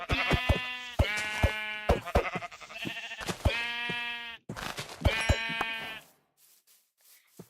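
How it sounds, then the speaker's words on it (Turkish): Sheep in the Minecraft video game bleat repeatedly in short, close, clear calls, several overlapping in quick succession, followed by a quiet pause at the end. "3 koyun lazım dedim. Tam da 3 koyun çıktı."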